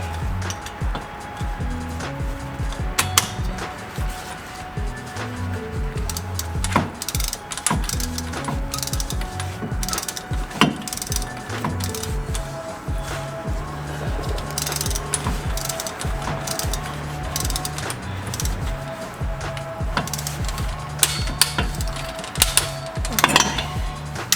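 A hand ratchet clicks in repeated short bursts while tightening a part on the rear differential of an Infiniti G35, a close, sharp pawl chatter with brief pauses between strokes and no talking.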